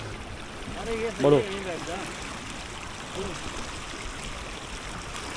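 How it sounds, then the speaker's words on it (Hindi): Stream water trickling and flowing into a deep pond outdoors, a steady low wash running throughout, with a brief voice near the start and occasional faint chatter over it. "इससे इस ताल में पानी जा रहा है।"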